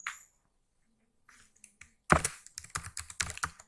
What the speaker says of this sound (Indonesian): Di sini kita ketikkan codingan pada poin A